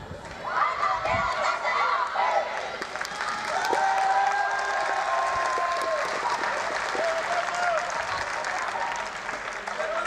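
Sustained clapping from a large crowd at an OFI women's football match, loud and continuous, with whistles and cheers rising through it as the players celebrate an opening-match win.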